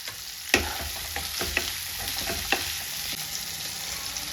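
Ingredients sizzle steadily in hot oil in a pan with a pinch of salt and pepper powder, for a restaurant-style white sauce pasta. A few sharp stirring clacks stand out over the constant close frying hiss.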